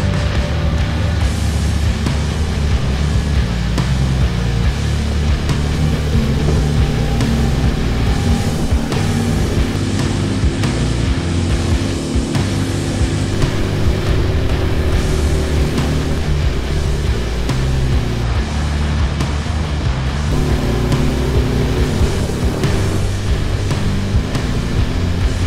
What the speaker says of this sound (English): This engine needs a good running, so let's get into it.